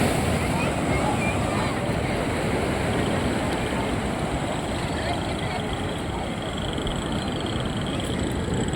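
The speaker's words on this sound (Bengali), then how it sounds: "তবুও যে পরিমাণ ঢেউয়ের গর্জন, সমুদ্র মানেই একটা আলাদা মজা।" Sea surf rolling in at Old Digha beach at night, a continuous loud roaring wash with heavy wind noise on the microphone and no clear breaks between waves.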